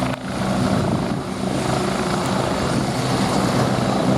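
A navy helicopter flies close by at an air show, its loud engine roar and rotor thump holding steady throughout with no talking.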